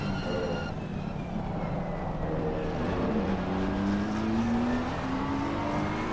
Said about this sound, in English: McLaren being much noisier, and the BMW almost being quiet by comparison.